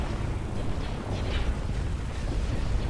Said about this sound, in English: So our Moncals are actually shelling that dreadnought